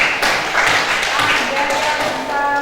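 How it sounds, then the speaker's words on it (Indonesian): A classroom group claps for a student, a dense burst of close, brisk hand claps that carries steadily to the end, with a faint voice starting to speak underneath near the close. "Oke, kasih tepuk tangan dia."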